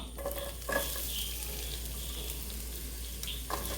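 Sliced onions sautéing in hot oil in a kadai for kadai chicken, a steady close sizzle with a few scraping stirs near the start and end, no voices.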